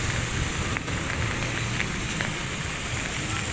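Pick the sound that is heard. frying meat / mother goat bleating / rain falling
rain falling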